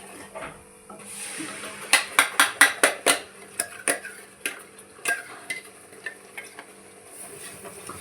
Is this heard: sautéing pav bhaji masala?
yes